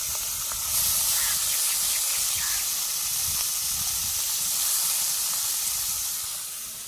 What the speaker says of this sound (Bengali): এখন মাখানো হয়ে গেছে, এখন আমি তেল দেব